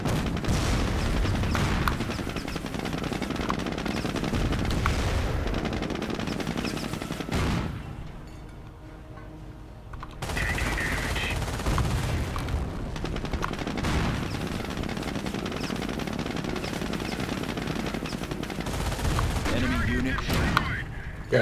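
Sherman tank cannon and infantry gunfire in the World War II strategy game Company of Heroes: dense, loud bursts of rifle and machine-gun fire with heavy booms, a brief lull midway, then more sustained firing.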